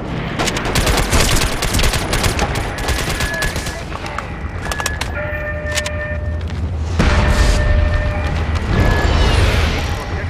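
Dense, continuous gunfire from the online shooter game MAG in a Domination match, a steady barrage of shots and bursts with booms, loud throughout, with game tones and some speech mixed in.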